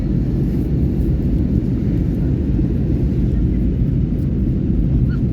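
Airplane cabin noise on a flight nearing Visakhapatnam over the sea: a loud, steady low-frequency engine roar and airflow rumble that stays constant throughout, without voices.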